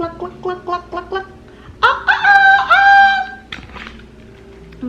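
A few short rhythmic clucks lead into a loud, drawn-out rooster crow voiced by a person imitating it, followed by quiet clucking.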